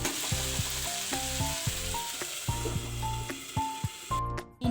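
Tomatoes sauté in a pan for fish keema, a steady close sizzle broken by repeated sharp scraping and stirring clatters of a utensil against the pan.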